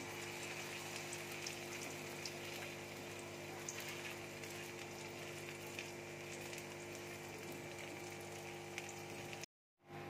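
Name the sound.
batter for paneer chilka frying in hot oil in a kadai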